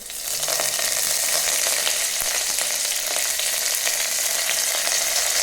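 Curry leaves crackling in hot oil for dal dhokli, a loud continuous sizzle dotted with sharp pops and spits, close and steady from start to finish.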